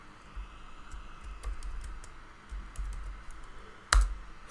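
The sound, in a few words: typing Python code on a computer keyboard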